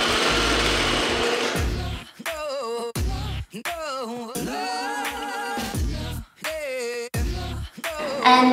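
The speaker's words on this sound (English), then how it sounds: "now we head on to the sewing machine to finish our summer shorts" A home sewing machine stitches a pair of summer shorts made from old pajamas, its motor whirring in repeated bursts of several seconds separated by short pauses, loud and close.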